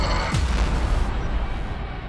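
Explosion going off behind the player in Cyberpunk 2077, a single sharp boom early on that trails into a low rumbling decay.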